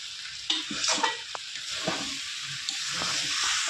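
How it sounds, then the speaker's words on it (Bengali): Curry base for a prawn, potato and green papaya dish being sautéed slowly over a low flame in a pan, with soft steady sizzling broken by several sharp stirring clinks and scrapes, close and alone. "অল্প আঁচে ভালো করে কষাতে হবে অনেকক্ষণ"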